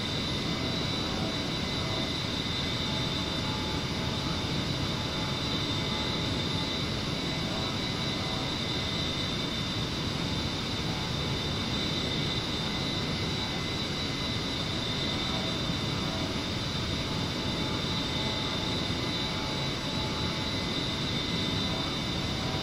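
Twin jet engines of an A-10C at max power in the DCS flight simulator, a steady, dense roar with a sustained high whine, unbroken for the whole stretch and with no voices.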